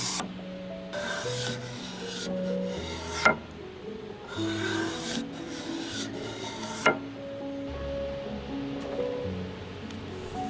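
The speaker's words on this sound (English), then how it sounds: "Scraping is definitely one of the most satisfying ways for me." A hand scraper rasps a thin film finish off walnut wood in repeated long strokes, each a dry close scrape with sharp ticks at the ends of some passes. No voices.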